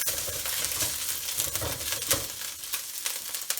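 Ginger and garlic fry in hot oil for a shrimp chow mein, crackling and sizzling steadily. Occasional stirring scrapes and light pan clinks sound close by, and no one talks.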